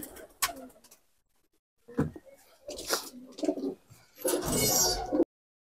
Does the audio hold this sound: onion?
no